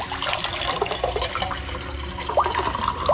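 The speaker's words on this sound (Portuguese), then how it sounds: "Vou colocar aqui um pouco de água pra eles." Clean tap water is poured out into a dish for birds, a steady close splash and trickle lasting several seconds, with a few faint bird chirps near the end.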